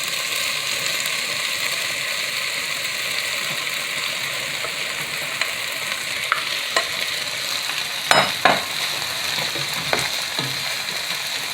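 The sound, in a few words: tomatoes being stirred in a cooking pot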